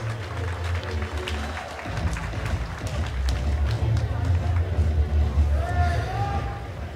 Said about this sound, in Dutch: Uw applaus voor de Nederlands parakampioen Christel Smit